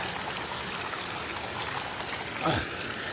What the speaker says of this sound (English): we have another mountain stream crossing here. See the cascade right there.